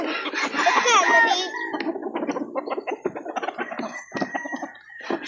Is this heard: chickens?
yes